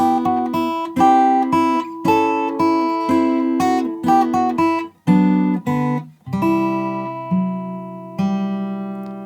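A guitar in standard tuning plays a slow melody from the Ib game theme, plucked notes and chords each ringing out and decaying, with a few brief pauses between phrases.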